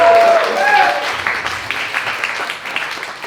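A comedy-club crowd applauds in a steady wash of clapping at a stand-up show in Winston-Salem, loudest at the start and thinning slightly, with voices and a few whoops mixed in.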